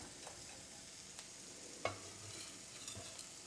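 Onion and garlic fry quietly in a pan beside squash, a faint steady sizzle with a handful of soft stirring scrapes and one brief sharper clink near the middle; no one speaks.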